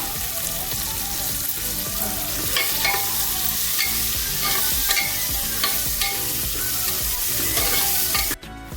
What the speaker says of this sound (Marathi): एक मीडियम साईजचा कांदा बारीक चिरून घेतलाय आहे तो टाकूया